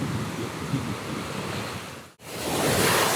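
Ocean surf breaks steadily on a Monterey Bay beach, a loud continuous wash of waves with a brief lull near the end before the roar swells back.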